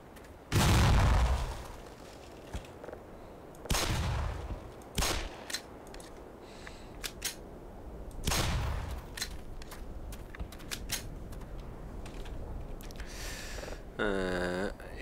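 Repeated loud gunshots in Black Mesa, single shots and short bursts, with sharp metallic pings and ricochets off a gasoline barrel, ending in a ringing tone.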